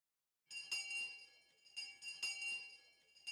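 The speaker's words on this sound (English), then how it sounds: "Just then, we heard a bell, far away, marking the end of our lunch break." Bell tolling far off in a video game village to mark the end of a lunch break, a few soft ringing strikes with lingering bright overtones, quiet and alone.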